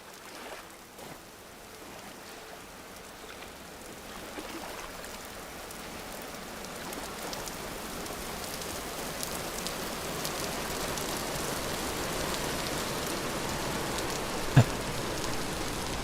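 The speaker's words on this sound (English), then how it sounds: "Sweet soothing sounds of the rain." Steady rain falls in the survival video game Vintage Story, a dense hiss that slowly grows louder over the whole stretch, with a brief sharp click near the end.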